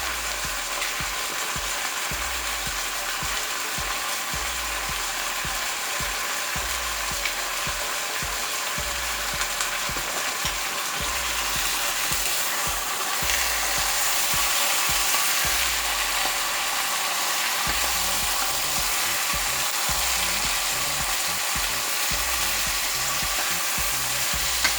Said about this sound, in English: Let me cook it for a few minutes on that side so it'll brown